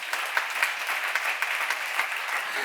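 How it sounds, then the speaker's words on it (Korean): A church congregation applauds together, a dense, steady wash of many hands clapping that holds moderately loud through the whole stretch with no voices over it. "박수 좀 쳐봐요"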